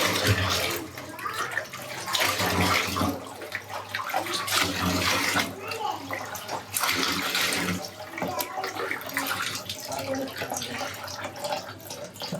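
Hot water from a geyser pours steadily out of a tap in a home kitchen, a continuous close rush and splash with no break.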